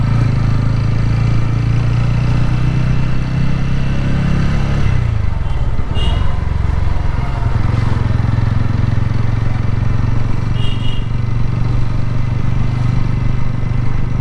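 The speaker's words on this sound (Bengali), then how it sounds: "TVS Ronin, my new motorcycle." A TVS Ronin 225 motorcycle engine running close by, a loud steady low rumble that shifts and dips midway before settling back into an even idle drone.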